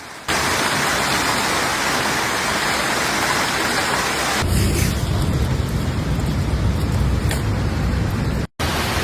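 Heavy rain pours down during a thunderstorm in Paris, a loud, steady broadband wash that grows rougher and deeper partway through, with a brief dropout near the end.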